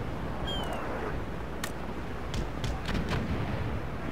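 Broadside cannon fire from warships in a naval battle in Empire: Total War (Darthmod), heard as a string of booming shots at uneven intervals over a constant roar of battle and sea noise.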